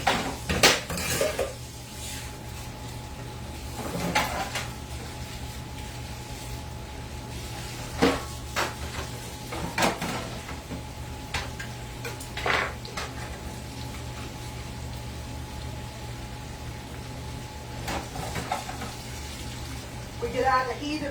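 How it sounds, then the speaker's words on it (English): Dishes being washed by hand in hot water at a kitchen sink, with scattered clinks and clatters of plates, pots and cutlery over a low steady hum and faint water sounds. "And I gotta wash a few dishes"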